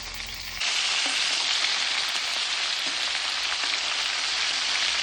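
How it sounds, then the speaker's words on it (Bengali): Katla fish pieces fry in hot oil with a loud, continuous sizzle that starts abruptly after a brief quieter moment and holds steady. "দুটো পিঠে লাল লাল করে ভালো করে ভেজে নেবো"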